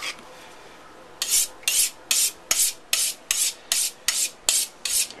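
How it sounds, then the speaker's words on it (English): A dull knife saws through a block of pressed braised pork belly in a run of about ten close, rasping strokes at an even rhythm, each a short gritty scrape after a quiet first second. "I'm going to cut a few slices out of this"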